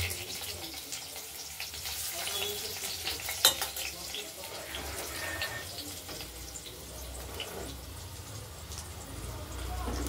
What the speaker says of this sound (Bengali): এবার এই পনিরের বড়ার সঙ্গে যে আমরা আলুটা দেব, সেই আলুটা আমরা ভেজে নেব।